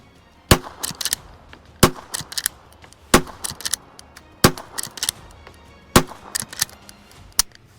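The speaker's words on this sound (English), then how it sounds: "5 loaded up this time. We're going to go ahead and we're just going to try to do it quick" A Heritage Mares Leg lever-action gun is fired quickly outdoors, six loud sharp shots at roughly one-second intervals, each followed by the clacking of the lever being worked, with no talking.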